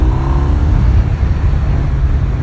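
A 2022 BMW R1250 RT Sport Pack motorcycle pulling away in eco mode, a loud, close, steady low engine drone that rises in pitch briefly at the start and then holds a smooth, even roar.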